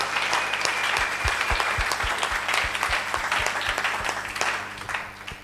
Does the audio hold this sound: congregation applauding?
yes